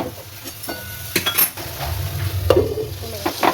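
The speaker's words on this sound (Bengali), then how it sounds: "আচ্ছা দেখো এটাও সাঁতলানো হয়ে এসছে, আমি এটা তুলে নিচ্ছি।" Bitter gourd and bottle gourd sauté in hot oil with a soft, steady sizzle, broken by scraping stirs and occasional metallic clinks of a spatula against the pan.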